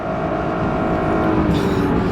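A Lexus GS450h hybrid with a CVT accelerates in hybrid power mode, giving a steady, smooth engine and electric drone with no gear shifts, heard from inside the car at a loud, even level.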